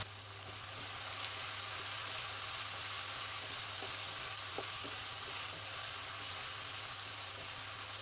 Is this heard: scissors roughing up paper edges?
no